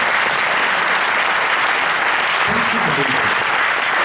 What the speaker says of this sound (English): I want everybody who's seated down here to give these people a round of applause